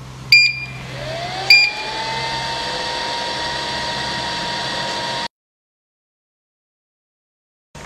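A 3D sublimation heat press machine set to 200 degrees starts up with two sharp beeps. A steady whirring hum with a high whine follows for about five seconds, then cuts off abruptly into silence.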